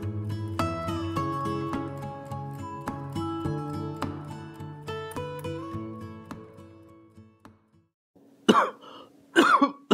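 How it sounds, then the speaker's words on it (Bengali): Two loud, harsh coughs from a person whose cough has been worsening day by day burst out close by at the very end, right after a stretch of music fades away. "কাশিটা কিন্তু দিন দিন বেড়ে যাচ্ছে"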